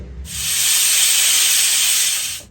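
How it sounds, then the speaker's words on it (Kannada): A pressure cooker cooking lentils lets out one loud, steady steam whistle that holds for about two seconds before cutting off. "ಕುಕ್ಕರಲ್ಲಿ ಇದನ್ನು ಬೇಯಿಸ್ಕೊಳ್ತೀನಿ ಮೂರಿಂದ ನಾಲ್ಕು ವಿಸಿಲ್ ಹಾಕ್ಸ್ಕೊಳ್ತೀನಿ"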